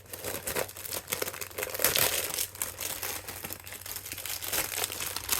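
Crinkly plastic packaging is torn open and crumpled around a crafting binder, a continuous rustling and crackling that stays close and moderately loud, with no talking.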